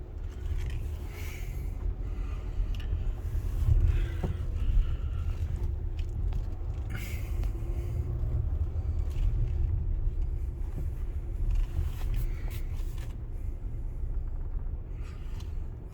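An Autec soft-touch automatic car wash runs at a desert car wash in Willcox, Arizona, giving a steady, loud, low mechanical rumble with faint scraping and whirring layered over it, continuous throughout with no voices.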